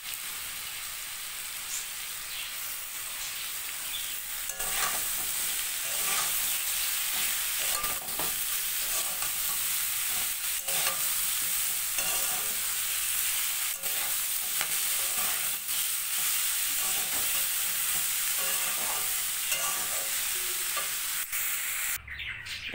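Cubed potatoes and cut cabbage frying in a pan with salt, sugar and turmeric, a loud continuous sizzle broken by frequent close stirring scrapes, with a clatter near the end.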